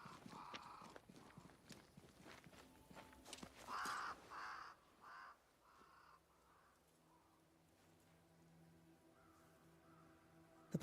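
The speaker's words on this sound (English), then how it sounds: "Crows. They flock to that great tree up there." Several crows caw in a short burst of harsh calls amid the ghostly woodland ambience of Banishers: Ghosts of New Eden, fairly close, followed by quieter low atmospheric hum.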